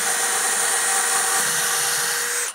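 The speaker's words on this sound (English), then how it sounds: "So let's go ahead and do one with the DeWalt." A DeWalt 12V cordless drill drives steadily at high speed, a close, loud and even whine that holds for a couple of seconds and then cuts off.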